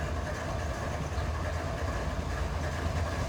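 Freight train from the Run 8 railroad simulator game rolling past at close range, a steady loud rumble of wagons and wheels with a faint clickety-clack over the track, no voices.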